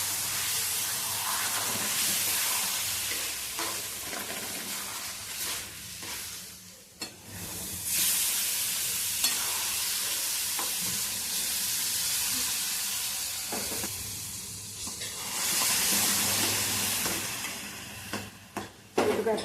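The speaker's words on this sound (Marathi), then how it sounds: "ते थोडं थोडं दूध घालून आपण रवा हलवून घेणार आहोत" Semolina stirred with milk in a pan for sheera, a steady close sizzle and hiss with scraping stir strokes that swell and ease over a long stretch.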